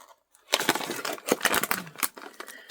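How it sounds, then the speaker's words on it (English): Scissors cutting open the plastic packaging of tomato-flavored crackers: a quick run of crinkling, snipping and rustling bursts, close up, after a brief silence. "No, I'm going to use my scissors."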